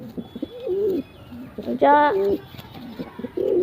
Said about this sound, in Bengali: একটা ম্যাটরাজ পায়রা।